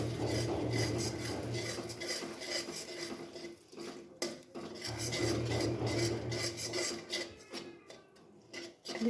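Sugar melting in hot oil in a pan while being stirred, giving a steady close rasping, scraping sizzle with brief pauses and no talking.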